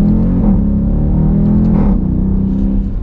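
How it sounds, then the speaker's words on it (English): A Dodge Durango SRT with a near-500-horsepower V8 accelerates from a stop at part throttle, its deep, steady engine roar rising close by and continuous throughout. "we'll get a good acceleration here"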